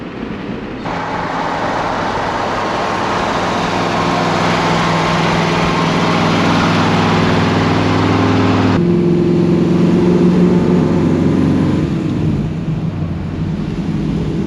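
A 1955 Chevy Bel Air's engine drones loud and steady while the car drives, a continuous low rumble with a shift in tone partway through.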